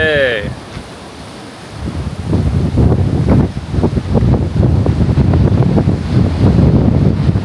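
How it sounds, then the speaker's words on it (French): Steady wind roars across the microphone at a coastal viewpoint on a Cambodian island, with the wash of surf beneath it, loud and continuous. "Ah ouais, ici il y a des vagues"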